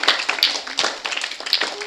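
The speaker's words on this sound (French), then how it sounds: "Applaudissez pour Papa Ali Maïmona, pour la Fondation Alma." An audience at a Christmas charity event in Kinshasa claps briefly, with uneven, close hand claps in short bursts and a little voice sound mixed in.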